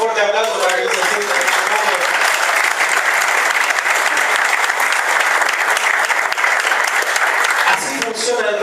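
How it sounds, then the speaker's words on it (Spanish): Loud, sustained applause from the audience at a national retreat of Baptist pastors, filling nearly nine seconds without a break, with someone speaking briefly at the very start and again as it ends. "Le damos un fuerte aplauso para que no se sienta."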